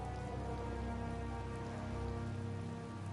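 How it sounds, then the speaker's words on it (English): Steady rain falls throughout in the video game Tales of Vesperia, a dense, even patter with no voices and no breaks. "This is our chance. It's raining after all."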